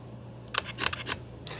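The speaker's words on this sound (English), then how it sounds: "all I did was press the shutter button, and it took multiple shots" Sony A5000 camera shutter firing in bracketing mode: a quick burst of several close, crisp mechanical clicks in rapid succession, then one more click moments later.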